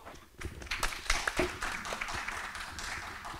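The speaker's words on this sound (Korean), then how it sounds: "환영의 박수해 주시죠" Brief, modest welcoming applause for a speaker at a civic water-cycle forum, scattered clapping from a small audience that rises and thins out within a few seconds.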